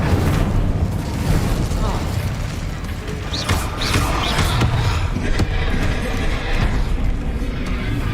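Spell-casting from the video game Hogwarts Legacy, with disarming and fire spells firing as dense, busy crackles and whooshes under a loud, continuous battle bed, several sharp bursts standing out in the middle stretch.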